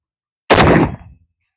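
A single loud, close rifle shot from a PSA AKP fired without a suppressor, a sharp blast with a brief decaying tail and then silence.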